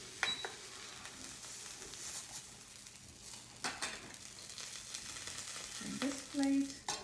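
A cheese and tomato quesadilla fries in a pan, giving a quiet, steady sizzle with occasional scrapes and a clink of utensils against the pan, close but faint, no talking.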